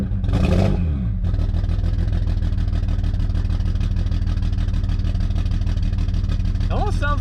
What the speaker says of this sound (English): See what happens when we rev it here for a sec.